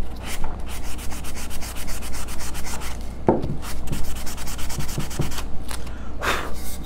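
Sandpaper rubs over painted wood with a brown stain underneath, wearing the paint away to make the wood look aged. Close, continuous scratchy strokes repeat in a quick back-and-forth rhythm.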